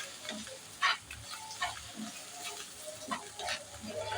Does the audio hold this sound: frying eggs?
yes